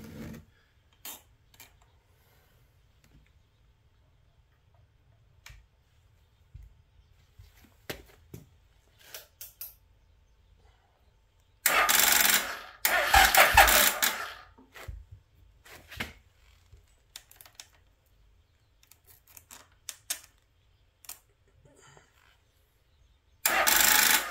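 An Intruder engine cranks over on a weak battery, producing loud bursts of starter churning that stop and restart between long quiet gaps, with no talking.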